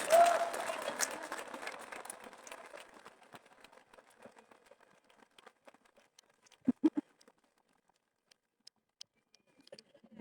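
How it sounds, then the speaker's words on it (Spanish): Applause for the pastor at an evangelical church celebration fades quickly from a full burst into a thinning scatter of individual claps, with a few isolated sharp claps near the end. "Un aplauso para el pastor."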